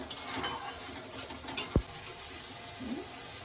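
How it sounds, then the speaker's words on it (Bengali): Spices with salt and turmeric are stirred in a pan, a soft scraping and faint sizzle under a low kitchen hum, with one sharp knock of a utensil against the pan partway through. "ভালো করে কষাবো।"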